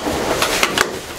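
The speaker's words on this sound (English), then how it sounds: "Someone's banging on my door." A few sharp bangs land on a door indoors, three quick hits spaced over about a second, moderately loud against a low background hiss.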